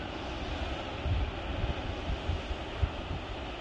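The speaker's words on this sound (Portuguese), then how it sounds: "É, muito vento." Strong wind at a cold, sunny beach blows a steady, full roar across the microphone, with deep buffeting gusts thumping in irregularly. No one speaks.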